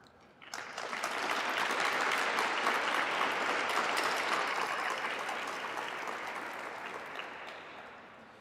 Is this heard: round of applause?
yes